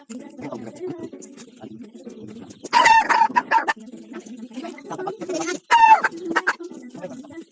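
A rooster crows twice, loud and near, at a rural farm spot, and someone talks in the gaps between the crows.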